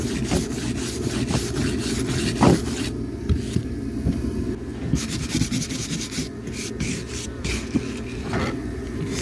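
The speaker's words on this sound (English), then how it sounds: "So just scrape her off until all the char's off" Char is scraped off the wooden bed of a custom truck bed for a bagged S10 with repeated rough rasping strokes, close and continuous, with a few sharper scrapes.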